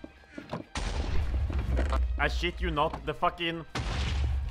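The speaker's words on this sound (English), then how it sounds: "all I hear is explosions" Explosions in a Dwarfs vs. Zombies video game roar as heavy, sustained noisy blasts, starting abruptly and returning near the end, with someone talking loudly over them.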